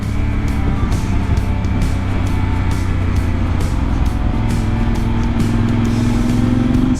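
A heavy 500 kg touring motorcycle rolling along a road in Bolivia under engine braking, a loud steady engine drone with wind rush and a slowly rising pitch, no talking.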